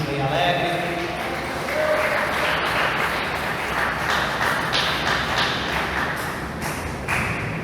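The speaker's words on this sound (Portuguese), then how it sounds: "Dê uma salva de palmas para Jesus bem alegre" A church congregation at an evening service claps together in praise, with a dense, lively burst of applause and thuds running under a faint voice.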